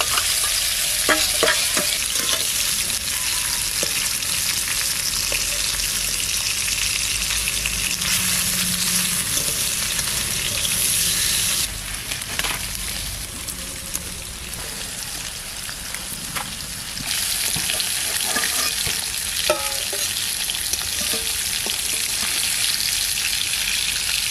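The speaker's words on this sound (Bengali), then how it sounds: "হালকা একটু শুধু এই পিঠ ও পিঠ করে একটু ভেজে নেব।" Big hilsa fish frying lightly in a pan, giving a steady, close sizzle with crackling spatters that runs unbroken throughout, with no voices.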